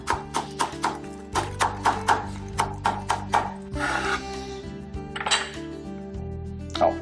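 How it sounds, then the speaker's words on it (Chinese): Kitchen knife chopping scallions on a cutting board for a seafood glass-noodle casserole, a quick run of sharp, even knocks, then a pause with scraping and clinking before a few more chops. "我现在先切葱，我们就把它简单切个葱花。"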